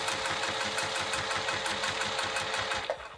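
A sewing machine runs steadily close by, its needle pounding out a fast, even stitching rhythm through velveteen fabric before slowing to a stop at the end.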